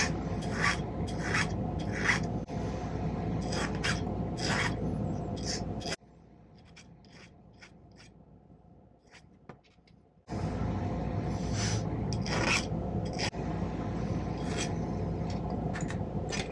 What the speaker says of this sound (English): Now I'll just trim off the excess here and then file it down.